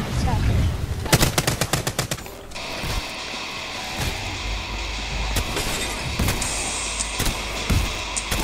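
Rapid full-auto gunfire bursts in a video game, a dense clatter of shots early on followed by a steady mechanical roar with intermittent sharp cracks throughout.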